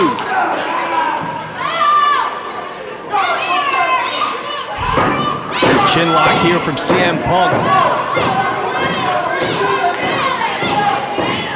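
An indie wrestling event crowd of shouting, cheering fans fills the arena continuously, loud and close, while a commentator talks over the noise.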